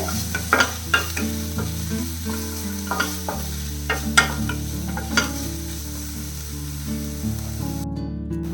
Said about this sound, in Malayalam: സവാള ഞാൻ ഫ്ലെയിം കുറച്ച് വെച്ചിട്ടാണ് വഴറ്റുന്നത് കേട്ടോ.